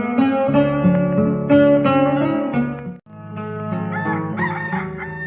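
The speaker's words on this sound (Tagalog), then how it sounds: "Asino aya ti akin manok iti dayta. Uray la matitilang tila paayag ko iti panagtaraok na." A rooster crows loudly and at length in a rural setting, its call layered over harmonic music or a voice tone, dipping briefly before a second rising crow.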